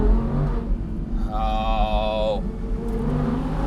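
A convertible Audi R8 V10 Plus Spyder pulls hard in first gear on an Alpine road approaching a tunnel, its engine note rising and droning steadily up close, while someone speaks briefly over it.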